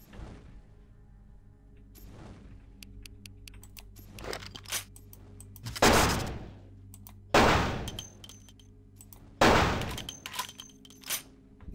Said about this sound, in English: I guess I can't solve everything with gunshots.